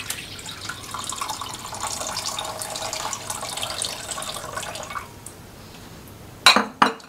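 Water poured into a mixing bowl while preparing cheese corn rolls, a continuous splashing stream for about five seconds, then quiet before two short clinks at the end.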